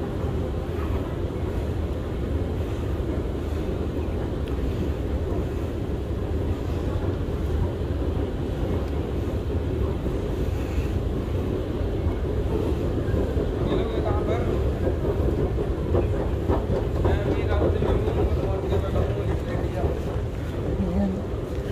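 A low, steady rumble of an MRT metro train rolling along rails fills the space, continuous and fairly close, with some faint background murmur.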